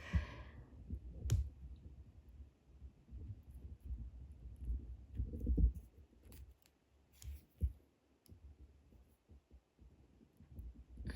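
A small thread on 3D star-shaped peyote beaded earrings snipped with scissors: a couple of sharp, close clicks standing out against a quiet background, with faint handling noises around them.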